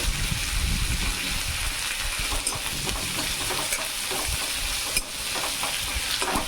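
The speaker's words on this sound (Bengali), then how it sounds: "এবার আমি রসুন ফোড়ন দেবো" Garlic frying in hot oil with mustard seeds, fenugreek and curry leaves for a tempering, a dense continuous hiss of sizzling with faint stirring clicks, loud and close.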